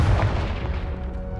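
A Confringo fire spell bursts in the Hogwarts Legacy video game, a loud booming blast with a heavy low rumble that rolls on steadily for the whole moment.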